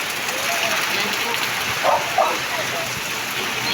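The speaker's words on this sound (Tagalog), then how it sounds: "ang lakas po ng ulan dito sa amin." Heavy typhoon rain from Kristine pours down in Malabon during flooding, a loud, dense, continuous roar of water close by, with faint voices in the background.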